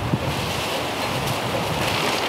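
Outdoors beside a grill, strong wind roars and buffets the microphone in a loud, unbroken rush, with no voices over it.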